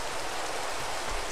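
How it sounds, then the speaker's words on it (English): Soft, steady hiss of rain falling continuously in Minecraft, even and unbroken, with no voices. "It's raining."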